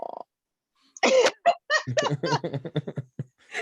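A person imitates a series of short, raspy coughing huffs in quick bursts, sounding close and breathy, like an animal's cough.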